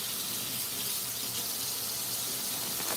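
Water from a kitchen tap runs steadily in a continuous soft hiss while something is briefly rinsed under it, at a moderate, unchanging level with no talking.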